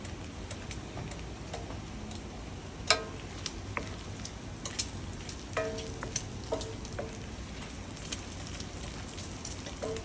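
Fat rendering and frying in a pan, with a steady crackling sizzle dotted with sharp pops and ticks throughout and no talking.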